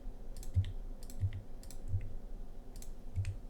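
Typing on a computer keyboard while entering letters for a word puzzle game: a few soft, widely spaced key clicks over quiet room tone, faint and close.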